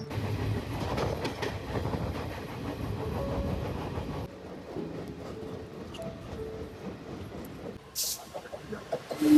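Passenger train running near Panvel, a steady rumble of wheels and carriage noise with faint clacking, fairly loud at first, then quieter after a brief drop, with a sharp hiss near the end.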